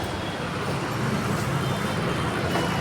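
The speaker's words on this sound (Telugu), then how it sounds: "చూడండి ఫ్రెండ్స్ ఎన్ని కార్లు." Steady road traffic outside a hotel, a continuous broadband roar of cars and other vehicles passing close by, fairly loud and unbroken, with no clear speech over it.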